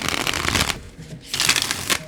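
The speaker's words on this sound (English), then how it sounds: "Gotta be a good shuffle." A deck of tarot cards being shuffled by hand, two quick riffling bursts of cards rattling close up with a short pause between, and no talking.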